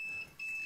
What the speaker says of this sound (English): Oh, it beeps.